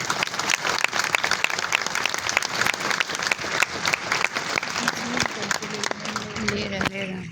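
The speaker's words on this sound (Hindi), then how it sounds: "ताली बजाओ।" Continuous applause from a conference audience at a national professional event in Gorakhpur, dense clapping that fills the room, with a voice speaking over it toward the end.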